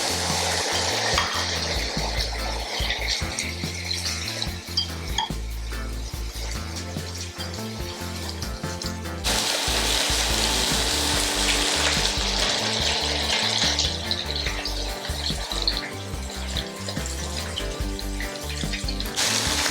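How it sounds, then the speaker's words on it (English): Fresh fish fries in hot oil with a loud, continuous broadband hiss that swells and settles over about twenty seconds, partly layered under steady background music. "So we're going to fry."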